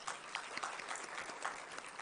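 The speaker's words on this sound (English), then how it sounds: "a big round of applause to everybody once again" Brief applause from attendees at the 54th Nutrition Society of India conference, a short, fairly faint and continuous patter of many people clapping.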